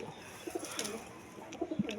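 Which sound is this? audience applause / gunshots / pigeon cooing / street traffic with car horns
pigeon cooing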